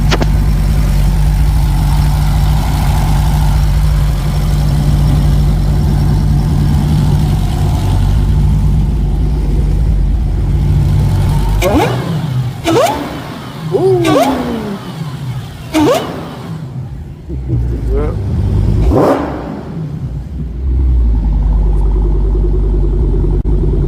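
A supercharged modern muscle car engine runs loud and close, a steady deep idle broken mid-way by several sharp revs that rise and fall before settling back to a rumbling idle.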